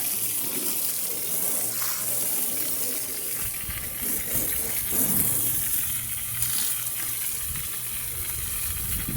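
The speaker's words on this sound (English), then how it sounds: "So after soaking the boat this heavily, especially on the top side" Water sprays heavily over a boat during a scrub down, a continuous hissing, splashing gush with slight surges and spatters, loud and close with no talking.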